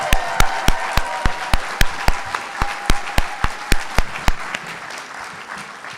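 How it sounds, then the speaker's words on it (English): Steady crowd applause at a nursing school pinning ceremony, with one sharp, evenly spaced clapping rhythm standing out over the broad patter before the claps thin out near the end. "Your support and love deserves one more round of applause and celebration."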